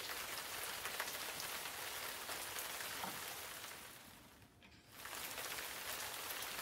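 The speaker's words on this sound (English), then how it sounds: "Rain is pouring." Heavy rain pours steadily, a dense continuous hiss that briefly thins for a moment before returning at full strength.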